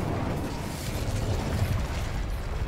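Incendio fire spell cast in the Hogwarts Legacy video game, a steady roaring, crackling burst of flame effect that holds loud and continuous for the whole stretch, with no talking over it.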